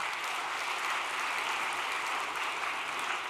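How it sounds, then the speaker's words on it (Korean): An audience at a church gathering gives a steady, dense round of applause of encouragement, filling the whole moment at an even level with no voices over it. "여러분들께서 격려의 박수를"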